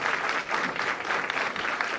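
Applause from an audience at a parliamentary human rights session, a steady dense clatter of many hands filling the room without pause.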